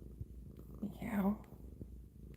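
A cat purrs softly at close range, a low steady rumble that swells briefly in the middle, with quiet background noise and faint breathy sounds around it.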